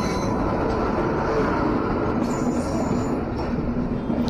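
The Farakka Express rolls into Patna Junction with a steady, loud rumble of railcars and wheels on track. A faint high squeal rises near the end, and no one speaks.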